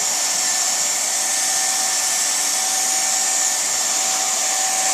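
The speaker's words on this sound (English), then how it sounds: "I have this air gun on about setting 7 on a scale of 1 to 10" A hot air gun set to about 7 of 10 blows steadily while heating a polyethylene split boot to fit it over a pipe. It gives a loud, continuous, close whooshing hiss with a constant tone throughout.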